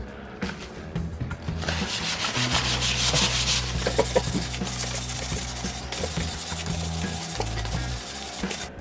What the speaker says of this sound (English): I'm sanding it down all the carved and narrow areas manually with the sandpaper